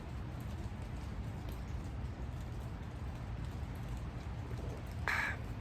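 Steady light patter of rain and drips falling from trees under a broad wet outdoor hiss, with a brief brighter splash near the end.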